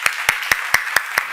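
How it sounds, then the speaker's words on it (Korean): Six sharp, evenly spaced claps sound close and loud in a church seminar setting, each a single crisp hit about a fifth of a second apart, with nothing else between them. "박수 좀 쳐봐."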